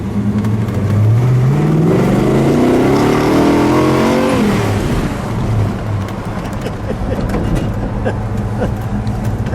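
A red 1966 Dodge Charger with a 426 Hemi and four-speed accelerates hard, its loud engine note climbing through first gear, then dropping at the shift into second before pulling again.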